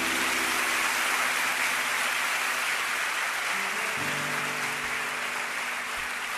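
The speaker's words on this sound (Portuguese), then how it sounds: "Você pode aplaudi-lo mais uma vez?" A church congregation claps in a steady, hissing wash of applause that sounds almost like rain, continuous and fairly distant, with a faint low hum in the background.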